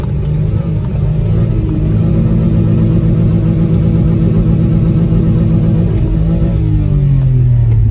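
A Citroen C1 small city car drives through snow with a loud, steady engine drone and road rumble throughout, the engine note rising slightly as the wheels slip.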